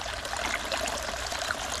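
Water runs steadily through a gold prospecting sluice box fitted with riffles in the Mother Lode, a continuous, fairly close rushing trickle with no pauses.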